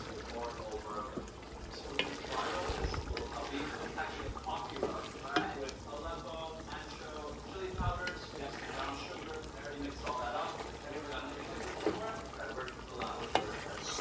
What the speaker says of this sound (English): Stir together.